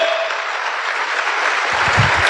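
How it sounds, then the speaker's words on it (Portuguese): Strong applause from a church congregation at a Pentecostal service fills the space continuously and loudly, with a few low thumps near the end. "dê um forte aplauso ao Senhor."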